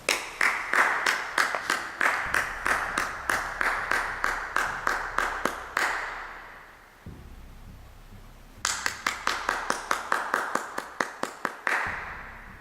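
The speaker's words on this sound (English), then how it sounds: "I'm just like clapping." Hands clap in a steady, fast rhythm inside the old Gaiety Theatre and Grand Hotel, loud and near, in two long bursts separated by a few seconds of quiet room.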